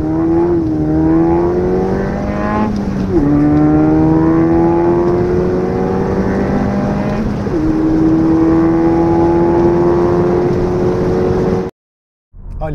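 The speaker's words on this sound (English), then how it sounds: "my 2013 Fiesta ST, which at this time was running 215 horsepower with Mount Tunes MP" A 2013 Ford Fiesta ST tuned to 215 horsepower with a Mountune MP215 pack accelerates hard through the gears, its engine and exhaust rising in pitch with each pull and dropping at gear changes, loud and close, before cutting off abruptly.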